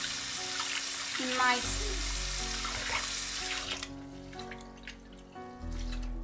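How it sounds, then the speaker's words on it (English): Tap water runs steadily into a bowl as rice for jeera rice is washed by hand, with splashing and sloshing under a brief spoken word, then the flow shifts and continues. "Put your hands in and wash the rice"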